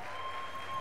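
Audience applause for a performer, Miss Grayson White, at a church event, a steady wash of clapping that holds even and fairly loud for the whole brief moment.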